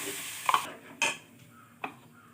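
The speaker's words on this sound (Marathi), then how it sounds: "हे बघा आता आपण टोमॅटोची प्युरी घालून घेतलेली आहे" Tomato puree stirred into a Marathi-style paneer masala in a pan, with a few scattered spoon scrapes and brief sizzling bursts over a soft background hiss, no voices.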